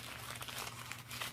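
Soft, close crinkling of loose paper and a gum wrapper, brief rustles and crackles handled near the listener, quiet throughout.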